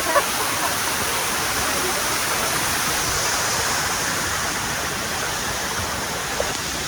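A waterfall on the Multnomah Falls trail in Oregon pours in a steady, dense hiss and rush, close and continuous throughout, with no voices over it.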